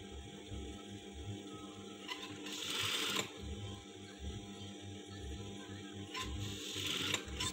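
A sewing machine stitches along the side of fabric for a front button placket, running steadily at close range with a rhythmic mechanical whir and a couple of brief sharper rattles, no voices.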